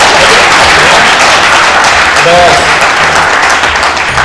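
An audience at a Hindu religious discourse by a speaker breaks into sustained, dense applause, loud and near, while a voice speaks briefly over it.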